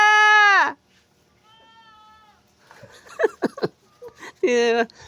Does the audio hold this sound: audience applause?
no